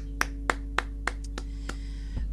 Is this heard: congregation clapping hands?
yes